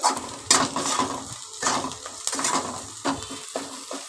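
Ginger, onion, garlic and chilli frying together in a pan: close, rhythmic scraping and clattering strokes of a spatula against the metal over a light sizzle, repeating about every half second.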